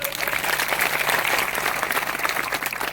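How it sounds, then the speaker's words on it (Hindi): Sustained, loud applause from the crowd at a Meghwal community convention, steady clapping throughout with no break or fade. "तो ताली तो बजा दो जोरदार"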